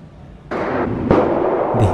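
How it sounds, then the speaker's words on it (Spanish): Gunshots in a city at night, two or three sharp loud bursts with sudden onsets ringing out in a noisy urban setting, heard close and alone with no talking. "Disparos."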